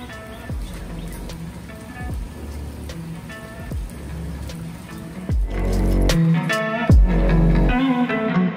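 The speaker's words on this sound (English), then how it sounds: "Thundering, it's raining" Steady rain pours down with a dense, hissing wash, joined by a few louder thumps and bursts, growing heavier toward the end.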